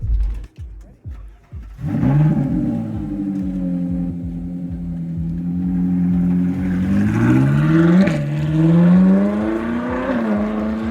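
A Ferrari 458 Challenge race car engine roars up close and revs repeatedly, its pitch climbing and dipping in loud, throaty surges after a few low thumps.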